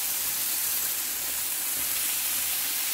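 Sausages frying in a pan, browning to a crust, give off a steady, even sizzling hiss that stays close and constant throughout, with no voices.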